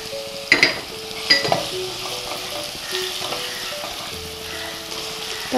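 Tomato goes into a hot pan for a mutton curry, with a couple of soft thuds and clatters over a steady close sizzle that settles into gentle frying with occasional utensil knocks.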